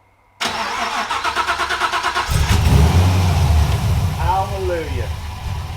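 A 1955 Chevy engine cranks in a rapid rhythmic chug, catches with a loud roar, then settles into a steady, rumbling idle up close, while a voice calls out briefly over it.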